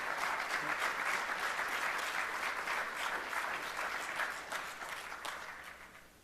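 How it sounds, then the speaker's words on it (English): A conference audience at the LANPAC 2025 symposium gives a panel a sustained round of applause. Dense, even clapping fills the hall and fades out toward the end, with no one speaking. "please join me in a round of applause for this great panel"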